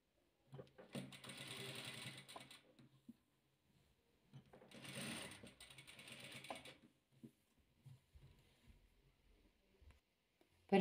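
Sewing machine stitching patchwork fabric pieces onto a backing, running in two bursts of steady mechanical whirring with clicks, followed by quieter handling noises.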